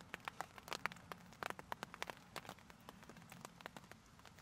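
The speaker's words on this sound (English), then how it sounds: "It's starting to rain pretty good now." Rain falls outdoors near a fence and gate, a faint steady patter of scattered drops tapping irregularly on surfaces, with no voices.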